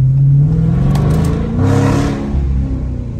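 A loud Dodge Scat Pack muscle car engine with a nearly straight-piped exhaust revs hard up close, its deep roar rising and falling with throttle bursts.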